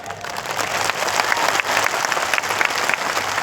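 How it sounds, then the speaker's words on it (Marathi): An audience at a large religious gathering claps in welcome, with sustained, loud, dense applause that swells slightly and carries on throughout. "टाळ्या वाजून कशा टाळ्या वाजल्या पाहिजे."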